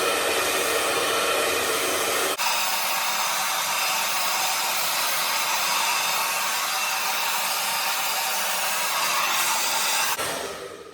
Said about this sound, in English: As you guys saw, I was blow drying this way.